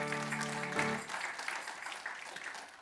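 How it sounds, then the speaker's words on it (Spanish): A church congregation claps together, a dense patter of hands starting while a sustained tone fades out, then continuing steadily at moderate volume. "Den un aplauso fuerte al Señor porque Él es bueno."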